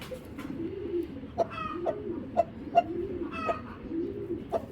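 A breeding pair of pigeons coos close by in a steady, repeated rhythm of soft rolling calls, with a few sharper clicks and knocks from the birds between phrases.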